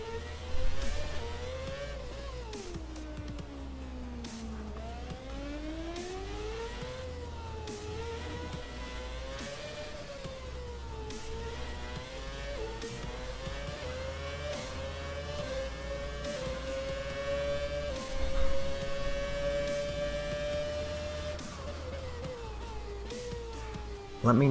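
Classic Formula One car lapping Monaco in F1 2017: a continuous close engine note that rises and falls through gear changes and corners, with steady revving throughout and a brief louder burst near the end.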